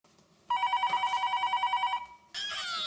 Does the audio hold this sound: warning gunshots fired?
no